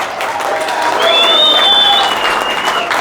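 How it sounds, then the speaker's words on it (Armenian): Clapping from a small crowd at a surprise birthday gathering for a beloved mother in the village of Aygepat, steady and close for about three seconds, with a thin whistle-like tone riding over the middle. "այդ ծափեր, էլի տվեք"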